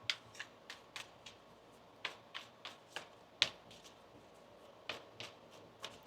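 A deck of tarot cards being shuffled up close, a quick run of crisp slaps and flicks roughly every half second, some sharper than others, with no talking.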